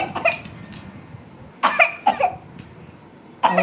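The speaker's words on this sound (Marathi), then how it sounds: "अहो आजीला लय खोकला लागलाय हो." An elderly woman coughs in a few separate hacking bursts, close and loud, with quiet pauses between them and a softer throat-clearing cough at the start.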